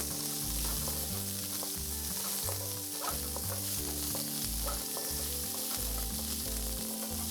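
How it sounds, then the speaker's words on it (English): Loud, constant sizzling of chopped onions frying in hot oil, with occasional scraping as they are stirred around the pan, close up and without speech. "Listen to that sizzle."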